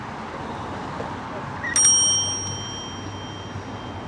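A bicycle bell rings once with a bright metallic ding, its tone ringing on and fading, while someone rides across the Brooklyn Bridge amid steady wind and traffic noise.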